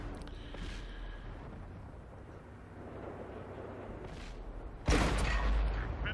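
Gunfire from an AMX Chaffee light tank in World of Tanks: a low rumbling battlefield bed, then one sharp, loud cannon blast near the end that rings out and decays.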